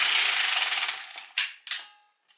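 An LK150 knitting machine carriage is pushed across a row, a whirring mechanical rasp that fades, followed by two sharp clacks and a faint final tick, with no voices.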